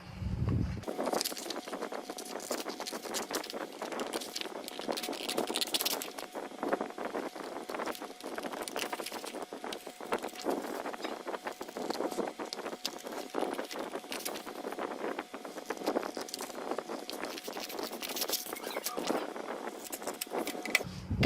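Scissors cutting out a paper sleeve pattern, faint crisp snips and paper rustling close by in a quiet room, scattered irregularly throughout.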